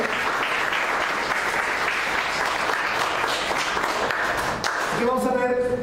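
A church congregation breaks into sustained applause, a thick wash of clapping from many hands lasting several seconds, with voices mixed in; near the end a quieter musical tone rises as the clapping fades.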